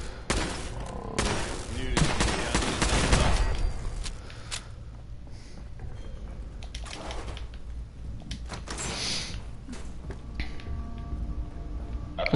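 Automatic gunfire from a Mark 3 turret in Fallout 4, bursts of loud rapid shots clustered in the first few seconds, then scattered quieter bursts and shots over ongoing game ambience.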